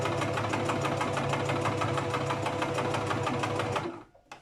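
A sewing machine stitches fabric along a folded edge in a fast, even mechanical chatter that runs for about four seconds, then stops. No one speaks over it.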